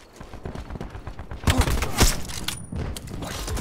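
The SWAT RFT assault rifle fires in the Black Ops 4 video game as a rapid, dense burst of gunfire amid busy game noise, with mechanical clatter and a few sharper shots standing out.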